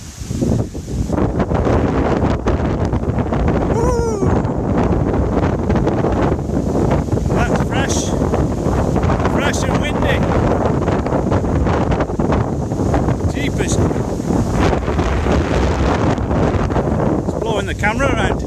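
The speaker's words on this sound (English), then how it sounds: "I think it's going to be ferocious up here, people. Like serious wind." Strong, continuous gusts batter the microphone on an exposed hilltop during the Highfield Grange Loop walk near Winstanley, a loud rushing roar that barely lets up.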